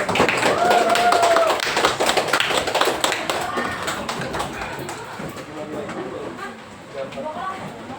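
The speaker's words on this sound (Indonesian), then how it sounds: "boleh sebelumnya kita berikan aplaus dulu buat teman-teman kita yang mau maju" A classroom claps for classmates about to present: scattered hand claps and taps, loudest at first and gradually thinning, mixed with chatter and a brief whistle-like tone.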